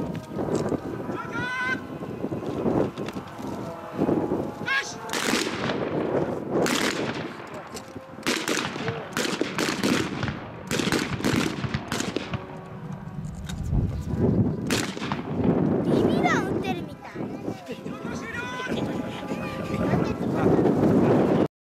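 Blank rifle fire at a 2015 air base open-house shooting demonstration in the kneeling position, with repeated sharp shots in irregular bursts over wind noise and outdoor crowd ambience.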